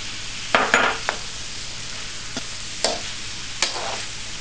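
Shrimp hit a pan of frying pancit, a low steady sizzle broken by several sharp scrapes and clinks of a utensil stirring against the pan, close and without talk.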